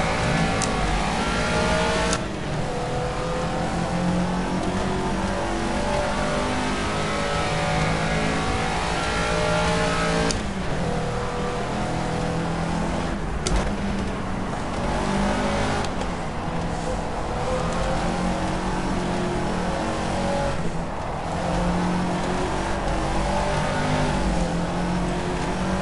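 A Caterham Seven race car in the Project CARS racing game, on the Monaco circuit, revs hard and continuously with repeated gear shifts and throttle lifts, its loud engine note rising and falling through the lap without talk.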